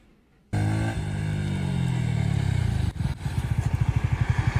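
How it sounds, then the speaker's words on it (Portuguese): A four-cylinder motorcycle rushes past close by, a loud rising engine roar with a falling pitch, then a rapid pulsing exhaust beat as it pulls away, heard from a 2024 Yamaha R15 ride. "4 cilindros passando."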